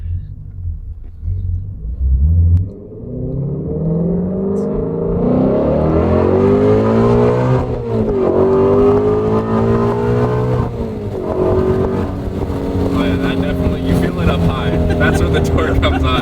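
A Ford Shelby GT350 V8 roars under hard acceleration from inside the cabin, its loud engine note climbing steadily through the revs with a brief shift, heavy and continuous, as occupants speak over it.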